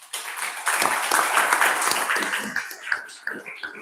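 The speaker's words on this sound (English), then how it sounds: "give a big round of applause to everyone" A book launch audience breaks into lively applause, a dense wash of clapping that swells quickly and then thins out into scattered claps.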